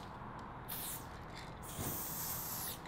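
Aerosol spray paint hisses out in two bursts while a music note is sprayed onto artwork, each burst a steady bright hiss of about a second, close and fairly loud, with faint rattles in between.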